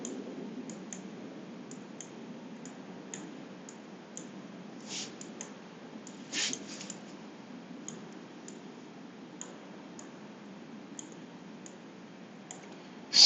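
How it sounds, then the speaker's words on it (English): A computer mouse is left-clicked in a series of faint, crisp, irregularly spaced clicks over quiet room hiss, with no voices. "I'm going to do that now by left clicking on the brake pedal."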